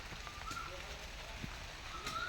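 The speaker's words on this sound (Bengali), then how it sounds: "আবার বৃষ্টি পড়তেছে," Steady rain falling outdoors, a dense even hiss throughout with faint patters, while a person moves about nearby.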